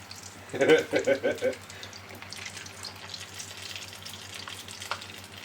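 A soft egg yolk frying in a pan is flipped with a spoon: a quick burst of clattering scrapes, then a faint, steady sizzle that fades to a low background hiss.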